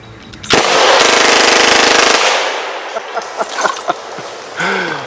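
A loud, continuous burst of automatic gunfire, roughly 32 rounds, rips out in a dense rattle lasting a little over a second outdoors, then cuts off, followed by scattered clicks and brief talk.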